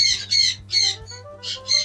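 A monk parakeet lets out five sharp, harsh squawks in a quick, uneven series. They are close and loud, with a low hum underneath.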